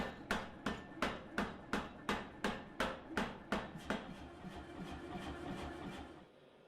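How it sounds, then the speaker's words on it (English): Power hammer forging a block of steel: about a dozen evenly spaced heavy blows in quick rhythm, loud and near, then fading into a lingering machine hum. "So I'm hammering it and hammering it on the power hammer until it's the right size"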